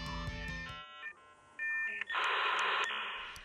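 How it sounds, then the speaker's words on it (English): A dial-up internet modem connects from the early 2000s, with dialing tones and beeps followed by loud hissing, screeching handshake noise that cuts in and out for a few seconds, heard alone. "Anyone who used the internet in the early 2000s knows the sound of dial-up."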